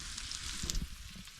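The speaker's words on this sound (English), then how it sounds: "frying up some mushrooms" Mushrooms fry in plant-based butter in a pan, giving a steady, quiet sizzle with a few soft pops and stirring sounds, heard close and alone.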